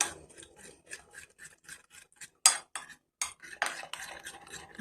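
A spoon stirs a homemade collagen face cream in a small bowl, with quick rhythmic scraping clinks against the sides, close and fairly quiet, with a couple of sharper knocks partway through.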